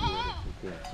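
Goats from four village households in Panchayan Village, Ramdhuni, Nepal bleat close by: a wavering, nasal cry opens the second, with voices talking alongside.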